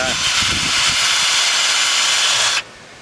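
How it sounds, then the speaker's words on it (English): A power drill with a wire brush attachment whirs steadily with a harsh, hissing scrubbing noise while cleaning Audi A4 front brakes for a few seconds, then cuts off abruptly. "a bit of wire brush attachments onto your drill"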